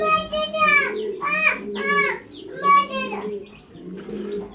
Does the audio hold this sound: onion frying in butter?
no